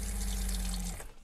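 Tap water gushes from a faucet fed through a newly installed under-counter water filter in a camper van, a steady close splashing stream that cuts off near the end.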